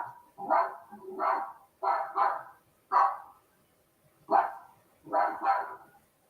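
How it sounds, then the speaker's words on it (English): Recorded dog barks played back through an Alexa smart speaker: seven sharp, loud woofs in uneven pairs and singles, close and clear with short silences between, and no talk over them. "Alexa, can you bark? Here's dog noises."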